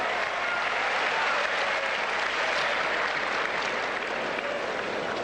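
Steady, dense applause from the crowd at a 2001 US Open tennis semi-final, continuous and even throughout without a swell, with no voices heard above it.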